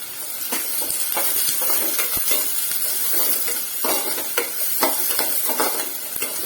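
Large onions sauté in hot oil for a Tamil-style mushroom gravy, giving a steady, loud sizzle and crackle with repeated scraping stirs of the pan, close up and with no talking.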